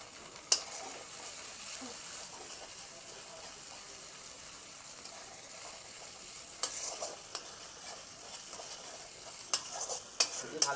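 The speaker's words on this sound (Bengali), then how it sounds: "ভালো করে কষবো এটা।" Chicken with ginger-garlic paste fries in a pan, producing a soft continuous sizzle with occasional sharp clicks and scrapes of a spoon stirring, close and fairly quiet.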